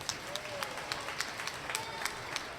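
An audience at an elementary school awards ceremony claps, with scattered distinct claps and light, steady applause heard from a distance in a large room.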